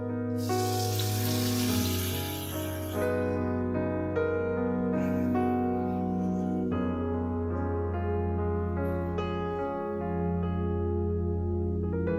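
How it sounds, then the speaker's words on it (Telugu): Tomatoes go into a hot pan for a quick tomato curry, with a steady hiss and sizzle of frying under a continuous humming drone, fairly constant throughout. "ఇప్పుడు టమాటాలు వేసేసుకుందాం"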